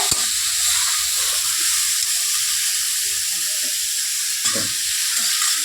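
Vegetable chop filling with meat frying and stirred in a pan, a steady close sizzle with occasional scraping stir strokes, one sharper clatter near the start and another near the end.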